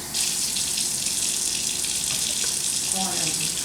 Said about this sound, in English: I'm going to rinse the lentils.